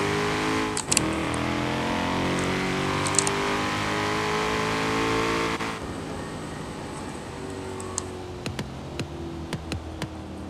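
A 2016 Ford Shelby GT350R engine drones loudly on an interstate, then the revs drop and a burst of sharp exhaust pops and crackles follows in quick, uneven succession.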